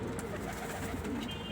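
Pigeons coo in a brief, soft burst over a dense, noisy background.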